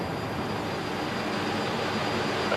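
A VC-10 jet airliner flies during flight-refuelling trials by Boscombe Down test pilots, a steady, loud broadband jet roar that holds constant throughout.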